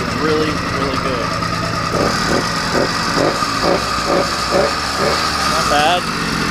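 An 80cc motorized bicycle engine runs loud and close, its rough putter rising and falling in short bursts as the throttle is blipped, with a voice briefly over it at the start.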